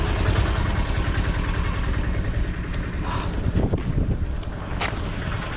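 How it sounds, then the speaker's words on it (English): A tuk-tuk engine rumbling during a ride, a low, steady, close drone with buffeting wind noise over it and a few brief clatters, with no talking. "that was a nice tuk-tuk ride from my hotel coming to Congo River"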